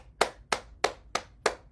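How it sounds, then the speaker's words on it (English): Six crisp hand claps in an even rhythm, loud and close, part of a morning bouncing exercise routine with no talking. "we'll clap our hands"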